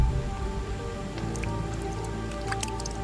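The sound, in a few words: rain falling in Singapore's jungle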